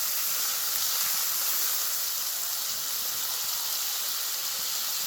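Water poured into a hot pan of spiced eggplant cooking with salt for tel begun gives a loud, steady steam hiss and sizzle that holds evenly throughout without any voice.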